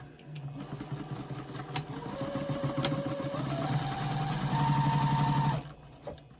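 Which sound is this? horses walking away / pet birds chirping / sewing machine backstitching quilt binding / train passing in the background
sewing machine backstitching quilt binding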